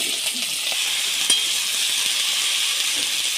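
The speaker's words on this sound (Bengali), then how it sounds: "এবার কেটে রাখা ফুলকপি আর আলুগুলো দিয়ে দেব।" Cut cauliflower and potatoes frying in hot mustard oil in a wok, a loud, steady sizzle throughout with a faint clink of a utensil.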